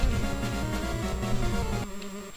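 Honeybees buzzing in an island adventure video game, a steady dense insect drone layered over music-like tones that carries for about two seconds and then drops away.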